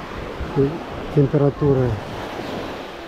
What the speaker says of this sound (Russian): Вон море спокойное такое, красивое.